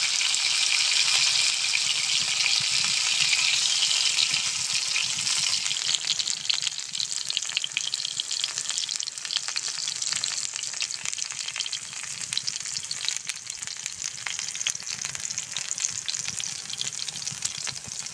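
Fish roe patties wrapped in pumpkin leaves fry in a pan, giving a steady, close sizzle with crackling oil for the whole stretch and no talk.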